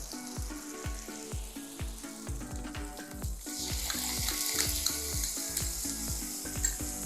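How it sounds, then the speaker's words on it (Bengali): Asafoetida water poured into potatoes frying in a pan for a Bengali breakfast potato curry, a loud steady sizzle with stirring and scraping knocks throughout, growing harsher and louder midway. "করে নিয়ে এবার আমি দেব হিঙ্গোলা জল"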